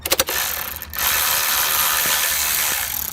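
Milwaukee M12 2457-20 cordless 3/8-inch ratchet, a 12-volt lithium-ion tool, turning a bolt: a few quick clicks, then a steady close mechanical whir of the motor and gears running without pause.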